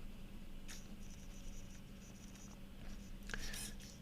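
A Jinhao 9019 Dadao fountain pen nib scratches quickly across paper in short, faint strokes, with a slightly louder flurry of writing near the end.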